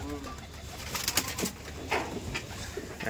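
Rajshahi Giribaj pigeons at a pigeon farm coo close by, with soft repeated calls and faint rustling over a steady background hiss.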